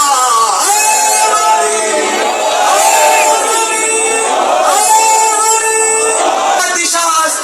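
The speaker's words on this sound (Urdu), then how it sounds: "ہاتھوں کو فضا میں بلند کر کے مل کے علی ولی اللہ نعرہ" A large crowd chants loudly in unison, many voices rising and falling together in sustained waves that continue throughout.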